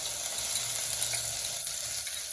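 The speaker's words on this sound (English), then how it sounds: "Oil has already become hot. Time to add the red onion paste" Red onion paste frying in hot oil for Indian minced chicken keema, a steady close sizzle with soft stirring underneath.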